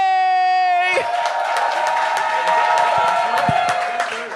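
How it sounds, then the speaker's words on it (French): A studio audience on a French-language television variety show breaks into cheering and applause as a guest comes on, rising after a sustained tone and holding as a steady, loud crowd roar. "Faites un tournant d'applaudissements pour Jérémy Harvey!"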